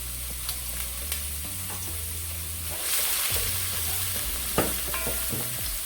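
Onions and seasonings fry in a hot greasy pan for carrot rice, a steady loud sizzle with scattered stirring clicks and scrapes, swelling louder around the middle and carrying on without talk.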